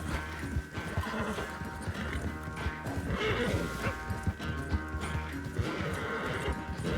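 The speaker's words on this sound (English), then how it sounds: "Pushing this horse to its limit." Horse hooves clopping steadily at a gallop with loud neighs and whinnies over a dense Red Dead Redemption 2 game soundtrack, busy and close throughout.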